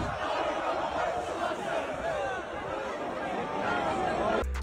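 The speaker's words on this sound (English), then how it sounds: "Whole crowd was turning up." A big street crowd cheers and yells at an impromptu show on top of a minivan during a riot in NYC, a dense, loud wall of shouting and chatter that carries on without a break.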